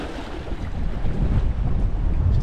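Steady, heavy wind roars across the microphone on the Anglesey coast, a dense low rumble with gusts swelling throughout and no voices.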